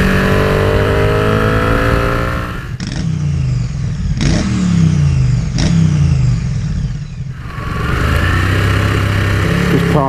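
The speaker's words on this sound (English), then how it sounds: "Come along for a ride with me on the splendid Ducati 899 Panigale." A Ducati 899 Panigale motorcycle engine revs loudly and close while riding, its pitch climbing in repeated surges as gears shift, with a brief dip between pulls before the engine noise swells again.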